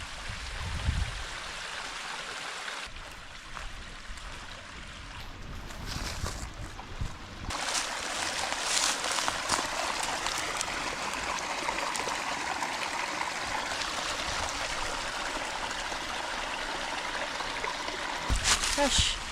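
Mountain creek running beside a campsite, a steady broadband rush of flowing water that grows louder and fuller partway through, with a few brief knocks and rustles up close.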